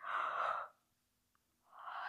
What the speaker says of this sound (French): Ouvrez grand la bouche et bâillez.